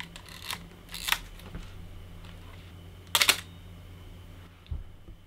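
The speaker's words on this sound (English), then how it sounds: "Film cameras sound like this when you take a photo." A film camera shutter fires a few times, each a crisp mechanical click-and-whir standing out from a quiet room, spaced apart by a second or two.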